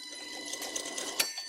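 A wood lathe turns slowly while making a small faceplate, giving a steady whirring whine, and a chisel bites into the spinning wood with uneven chattering cuts and one sharper hit near the end, close by and with no voices.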